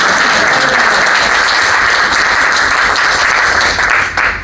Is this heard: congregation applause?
yes